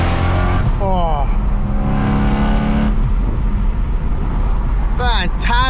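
BMW M3 exhaust revving loudly up close, rising and falling engine pitch in several bursts, with a voice talking over it at moments.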